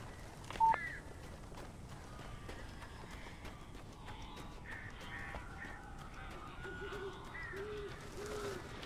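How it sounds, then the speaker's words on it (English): Birds in the Alan Wake video game: crow-like caws and scattered calls over a quiet, eerie ambience, with a brief brighter tone early on and faint sounds continuing in the background. "These birds are weird."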